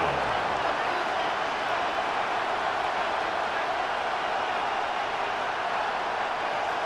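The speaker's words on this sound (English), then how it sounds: "The crowd making their presence felt." Stadium crowd cheering in the Madden NFL 26 football video game, 49ers vs. Saints, a loud continuous roar of distant fans that holds steady throughout.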